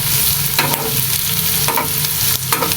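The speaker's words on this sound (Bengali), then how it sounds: "পেঁয়াজ কুচি ও কাঁচামরিচ আমি আস্তে আস্তে করে ভেজে নেব।" Chopped onion and green chilli frying in hot oil, a continuous loud sizzle broken by repeated scraping strokes of a spoon stirring the pan, with no voices.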